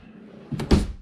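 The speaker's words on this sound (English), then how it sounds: "drawers have ball bearing drawer guides that allows for full extension" A kitchen drawer on ball bearing guides in a Quailridge park model slides and closes, two quick close thumps in succession, near and clear in a quiet room.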